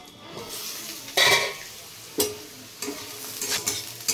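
Potatoes frying in a pan and starting to stick, a soft sizzle broken by a few loud scraping stirs and metal clinks from a spatula against the pan, close by, with no talk.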